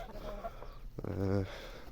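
Hens cluck and murmur softly nearby, ending in a drawn-out, louder cluck, with faint background noise throughout.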